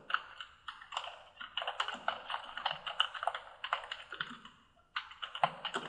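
Quick, steady typing on a computer keyboard, close and fairly quiet, with clustered key taps, a brief pause near the end, then more taps.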